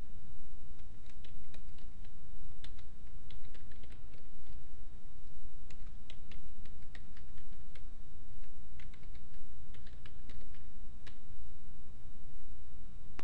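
Login details being typed on a computer keyboard, with quick, uneven runs of crisp key clicks close by that carry on steadily with no talking.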